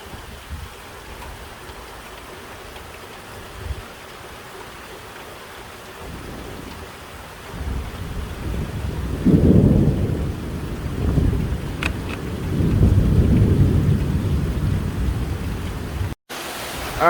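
Close thunder rumbles and booms in a heavy rainstorm, with steady rain pattering throughout and louder rolling thunder building in the second half, heard from a third-floor vantage during an intense lightning storm.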